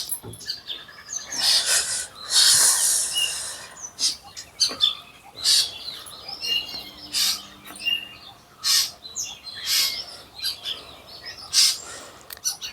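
Birds call and squawk outdoors on a cold day in a series of sharp, bursting chirps, some loud and close, others fainter, with short gaps between them.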